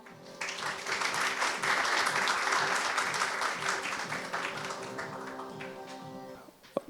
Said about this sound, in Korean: 여러분 따뜻한 박수로 환영해 주시기 바랍니다.